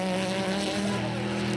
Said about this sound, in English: We had contact, and we had a car spin out in turn 3